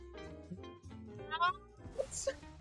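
A Displacer Kitten card meowing in the MTG Arena video game, a short cat meow near the end following a brief stretch of game sounds and murmuring.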